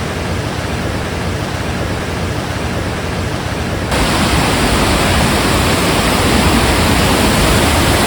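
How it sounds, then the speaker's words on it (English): Water pours over a weir at a dam on the River Dane, a loud steady broadband rush that grows louder partway through. "And here's the dam with the weir flowing beautifully."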